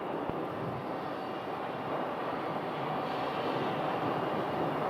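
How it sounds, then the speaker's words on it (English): A Boeing 737 MAX 8 airliner approaches to land at Phoenix Sky Harbor, heard from the ground as a steady, moderately distant engine roar and rumble that holds evenly throughout. "1587 is a 737 MAX 8 from JFK. They'll be up next for landing."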